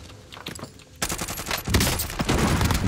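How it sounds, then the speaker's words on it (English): Gunfire in Call of Duty Warzone, a quiet crackle of shots that gives way to loud, rapid bursts of automatic fire continuing to the end. "Shoot through the wall if you can."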